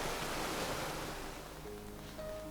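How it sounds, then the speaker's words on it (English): Water sprays up as the bow of a boat cuts through waves, a dense, steady rushing wash of surf noise, loud and continuous throughout with no talking. "the sound of the water spraying up as the front of the boat slices through the waves"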